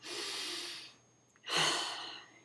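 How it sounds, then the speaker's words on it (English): A slow, deep breath taken during an emotional freedom tapping session: a long airy inhale, a short pause, then a louder, fuller exhale, close and alone with no talk. "So I'm going to take a nice deep breath again"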